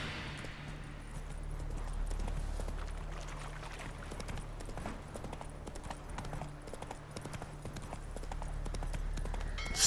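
Hooves of Roach, a horse in The Witcher 3 video game, clip-clop in a steady galloping rhythm throughout, close and fairly loud over a low ambient hum, with no talk.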